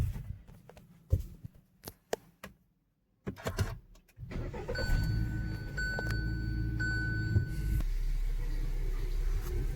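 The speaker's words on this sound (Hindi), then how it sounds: "मारते हैं अपनी गाड़ी में सेल्फ और" A Honda car is started with its self-starter: scattered clicks and clunks from inside the cabin, then the engine cranks and catches around four seconds in, settling into a steady, moderately loud idle hum with a few light clicks.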